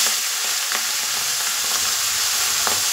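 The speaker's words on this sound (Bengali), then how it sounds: "এবার কাতলা মাছের তেলটা দেবো" Katla fish fat frying in hot oil makes a close, continuous sizzle with small crackles and pops scattered through it.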